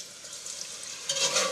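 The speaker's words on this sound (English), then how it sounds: "Whisk this in." A blonde flour roux being whisked with heavy cream in a pan, soft continuous whisking and gentle sizzling that grows slightly louder toward the end.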